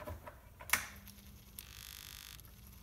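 Repeated clicking from a car starter solenoid as the ignition key is turned, a sharp click near the start followed by faint ticking and a steady electrical hum.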